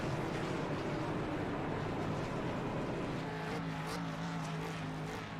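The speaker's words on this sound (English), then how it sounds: "The burnouts, 971, your winner at Auto Club, Nate Maurer." In a racing video game at Auto Club Speedway, race cars do burnouts after the race, producing a dense, continuous roar of engines and tire noise that barely changes throughout.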